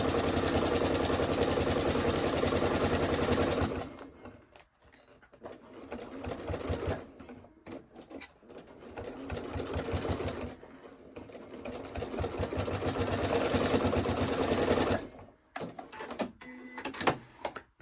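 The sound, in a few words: sewing machine sewing a seam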